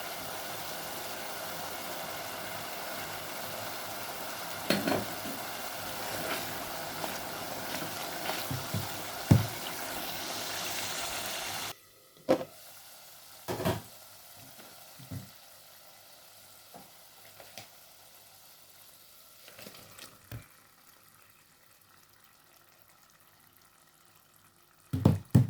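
Ground spice masala frying in oil for a fish curry, a hissing sizzle that holds for about half the time and then drops to a quieter simmer, broken by spoon scrapes and knocks against the pan.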